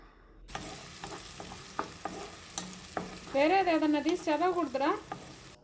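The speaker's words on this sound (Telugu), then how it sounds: "ఆయిల్ ఆవాలు వేసుకొని జీలకర్ర వేసుకొని ఆనియన్స్ వేసుకొని ఫ్రై చేసుకోవాలి సాఫ్ట్ అయ్యేంత వరకు" Onions, mustard seeds and cumin frying in oil for a prawn curry, a steady close sizzle broken by clinks and scrapes of stirring, with loud bursts of rising, warbling crackle in the last seconds.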